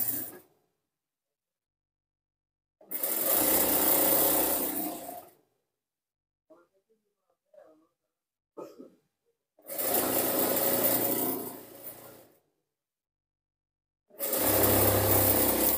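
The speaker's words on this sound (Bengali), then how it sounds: "আমরা একটা সাইড সেলাই করলাম, তারপর আমরা ঘুরিয়ে এই পাশটিও সেলাই করে দেব" A sewing machine stitches the side seam of pajamas in repeated loud runs of about two to three seconds each, separated by quiet gaps with faint handling clicks.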